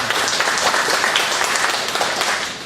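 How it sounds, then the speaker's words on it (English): An audience at a deep learning meetup claps for the volunteers, a brief, steady burst of close, loud applause that tapers slightly at the end. "give them a round of applause for helping out"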